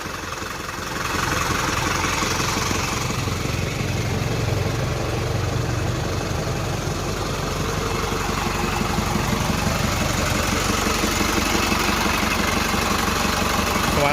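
A 120 PS diesel truck engine idles with a steady, rumbling knock that starts after a moment and holds loud and constant throughout.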